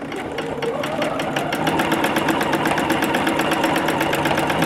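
A sewing machine runs continuously at close range during free motion quilting, a fast, even mechanical chatter of needle strokes with a steady motor hum underneath, no voice over it.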